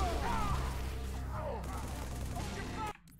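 Grenade blasts and gunfire in Halo 3, a dense run of crackling reports under some voice activity, cutting off abruptly near the end.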